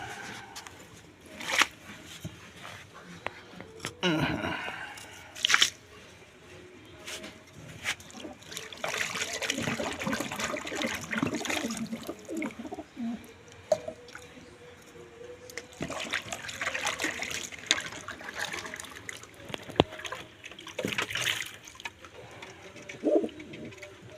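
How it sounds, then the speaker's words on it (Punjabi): Intermittent splashing and trickling of water being poured out and refilled in pigeons' water bowls, with pigeons cooing softly in the background throughout. "ਪਾਣੀ ਬਦਲ ਦਈਏ ਕੁਝਿਆਂ ਚੋਂ"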